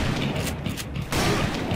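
Gunfire in the Western shooter video game Call of Juarez: Bound in Blood comes as several sharp, booming shots over a brief stretch, loud and close amid game ambience.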